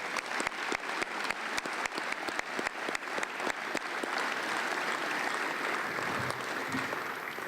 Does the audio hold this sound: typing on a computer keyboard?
no